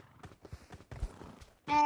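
Rhythmic clip-clop of hooves drawing closer, ending with a brief, bright neigh.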